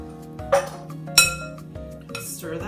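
A utensil stirs thawed chopped spinach into an olive-oil artichoke dip, giving a few sharp clinks and taps against a bowl over a low background hum.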